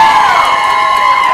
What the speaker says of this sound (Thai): ขอเสียงกรี๊ดให้กับพี่ฟิล์มและน้องมิวคิดหน่อยนะ